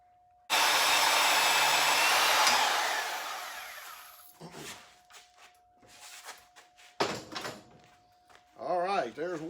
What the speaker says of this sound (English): we will just simply cut this piece of tubing here off now on both sides